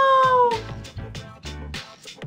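A cat in Persona 3 FES gives a short meow, followed by a run of rhythmic thumping and clattering beats with breathy noise, fairly loud and close, with no talk.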